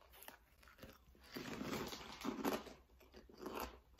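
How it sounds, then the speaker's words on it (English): Crispy shrimp chips crunched and chewed close up, a run of crackly bites and chewing swelling in bursts over a few seconds with no talking. "They're really like light and crispy, and they kind of just like melt in your mouth."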